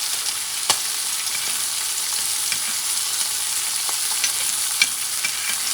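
Lamb chops frying in butter in a pan, giving a steady bright sizzle and hiss with a few sharp pops and crackles, close up and with no talking.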